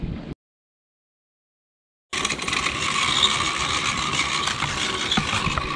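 A fishing reel crank is turned at a dam fishing competition, giving a steady close ratcheting, gear-like whir that follows a short cut-off and then runs continuously.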